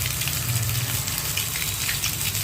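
An egg curry base sizzles in a pan after salt, chili powder and turmeric go in, a dense, steady frying hiss heard close up and alone, with no talking.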